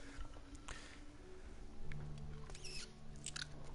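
Crunchy peanut butter being chewed in Fallout 4, soft close mouth crunches and biting sounds over quiet game ambience.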